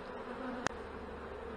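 Honey bees buzz in an opened hive during an inspection after more than seven weeks, a steady, dense hum throughout with one brief sharp tap partway through.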